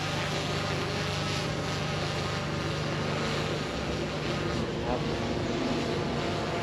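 A DJI Phantom 3 Pro drone flies outdoors at about 30 meters, its steady whirring rotor drone continuous and fairly loud, with a constant tonal hum and some wind noise.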